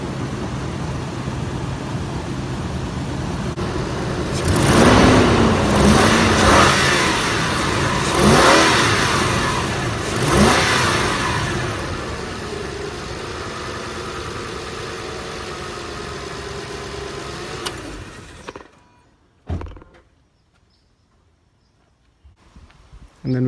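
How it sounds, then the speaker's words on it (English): A 4.7 liter V8 in a Toyota Land Cruiser 200 series revs up close by in several rising and falling bursts over a steady idle, then cuts off abruptly into near silence. "Here is that 200 series engine sound."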